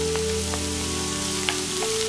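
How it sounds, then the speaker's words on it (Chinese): Diced carrot stir-fried in oil with scallion and ginger in a flat pan gives a continuous close sizzle, with a few light scrapes and taps of the spatula over two seconds. "再倒入胡萝卜丁，一起翻炒，"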